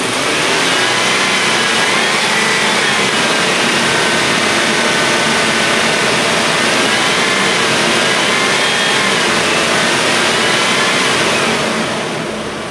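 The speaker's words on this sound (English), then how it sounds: "we'll rev it up" A car engine with a newly installed distributor revs hard and stays loud, holding a close, steady high-rpm roar for about twelve seconds before easing slightly at the end.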